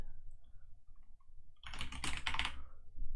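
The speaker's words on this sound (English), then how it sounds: "Type in your password." Password typed on a keyboard: a quick burst of several close, crisp key clicks in the middle, with quiet before and after and no talk.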